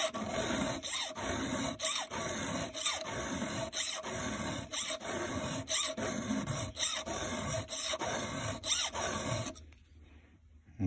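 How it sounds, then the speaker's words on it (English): A square file rasps steadily against a chainsaw chain's cutters, roughly a dozen rhythmic strokes close up that stop shortly before the end, leaving near silence. "Now you can change your angle slightly with how you roll the file."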